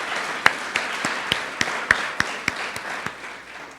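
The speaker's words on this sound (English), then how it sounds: "Give them another huge round of applause." An audience at a university campaign announcement gives a thin round of applause in which individual sharp claps land at a fairly regular, unhurried pace over a soft background patter.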